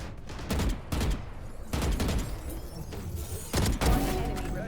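Gunfire from the game Valorant rattles out in several loud, close bursts of rapid shots, with short gaps between volleys and a heavy impact thump near the end.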